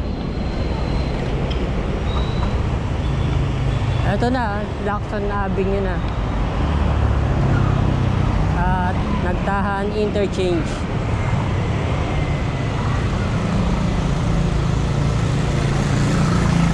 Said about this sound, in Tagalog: Ayun, ang dami mga sasakyan.